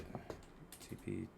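Faint, quick clicks of typing on a computer keyboard, a few keystrokes in a short burst, with a voice talking quietly at the same time.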